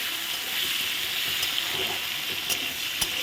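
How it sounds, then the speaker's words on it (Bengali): A steady, hissing sizzle of raisins and other ingredients frying in ghee fills the scene, with a few faint clicks of a utensil and no voices. "আমি একটু ঘিয়ের মধ্যে সব কিছু ভেজে নিলাম"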